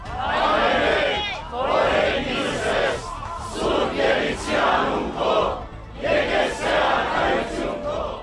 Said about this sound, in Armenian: Դատարանի շենքի մոտ հավաքված բազմաթիվ քաղաքացիներ ու հոգևորականներ ծափերով ու զորակցության վանկարկումներով են դիմավորել ամենայն հայոց կաթողիկոսին